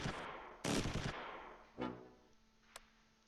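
MG 42 machine gun fire in the World War II strategy game Close Combat III, with dense rattling bursts followed by shorter, fading shots and sharp cracks amid battle ambience.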